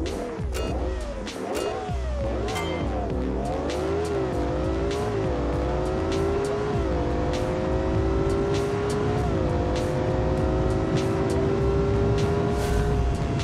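Carbureted supercar engine in the BeamNG.Drive driving game, loud and continuous, revving up through gears with rising and dropping pitch sweeps and occasional sharp clicks over a steady roar.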